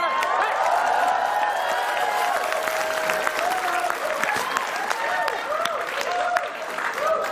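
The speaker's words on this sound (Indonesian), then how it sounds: "Coba tepuk tangan" Studio audience on an Indonesian television comedy show breaks into loud, sustained applause with scattered cheers and whoops, a steady wall of clapping lasting the whole stretch while voices call out over it.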